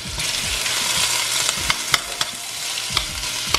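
Colored bell peppers sizzle and fry in a pan with a steady hiss, broken by occasional clicks and scrapes of stirring, close and fairly loud with no voices.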